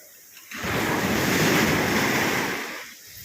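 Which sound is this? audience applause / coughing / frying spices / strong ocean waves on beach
strong ocean waves on beach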